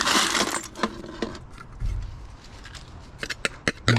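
Scrap brass keys dropping and clinking against each other as they are sorted, a burst of metallic jangling followed by scattered sharp clinks and taps, close and with no talking.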